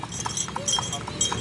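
A horse about six years old pulls a delman carriage through Kuningan, its hooves clip-clopping in a steady, brisk rhythm nearby while people talk over the sound.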